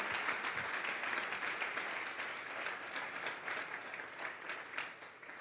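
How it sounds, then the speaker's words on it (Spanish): A church congregation at a Sunday morning service claps together as an offering to God, a steady wash of dense applause from many hands that fades slightly toward the end. "Vamos a darle una ofrenda de palmas a Dios en esta mañana"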